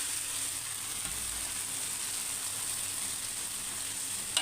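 A rava dosa cooks on a pan over medium flame, producing an even, moderate sizzle that hisses steadily throughout with no talking.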